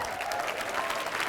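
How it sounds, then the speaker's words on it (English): Steady applause from a training-session audience fills the whole short moment, dense and even with no pauses, and a faint hint of voices sits underneath. "Can we give Joe Valenzuela a round of applause?"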